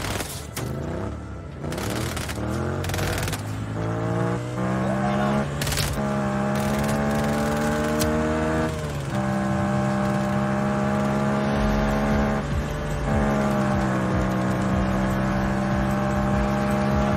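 A ground vehicle drives in Just Cause 4, its engine droning steadily and rising in pitch as it accelerates, loud and close, with a voice speaking over it at times.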